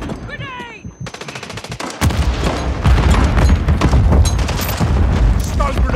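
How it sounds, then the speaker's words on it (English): Call of Duty Modern Warfare 3 Domination match on the Das Haus map: rapid automatic gunfire rattles at first, then heavy close bursts and booming shots keep going loudly, with in-game voices calling out over the firefight. "Taking fire over here."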